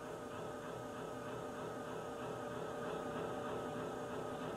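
A HMMWV military utility vehicle's engine runs at fast idle, a steady, dense mechanical drone that holds constant and fairly loud throughout with no voices.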